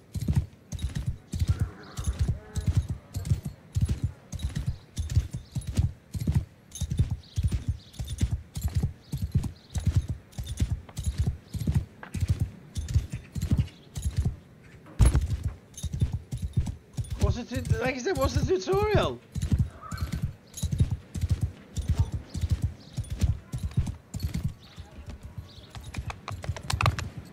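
Horse hooves clip-clop in a steady, rapid rhythm while riding a horse in the video game Banishers, continuous throughout and close, with a brief whinny midway and someone talking over the hoofbeats.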